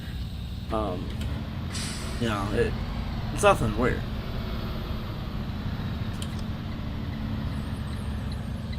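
A bus engine drones steadily in a bus driving video game, with short hisses of air brakes and a voice talking over it now and then.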